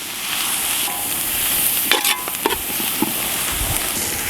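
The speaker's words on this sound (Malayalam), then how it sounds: "ഇതൊന്ന് നന്നായി ഒന്ന് ഇളക്കിയെടുക്കാം നന്നായി ഒന്ന് മിക്സ് ചെയ്ത് വരണം" Masala for a Russian chicken kebab being stirred in a pan, a steady sizzling frying hiss with a few scraping knocks of the spoon partway through, close and continuous without any talk.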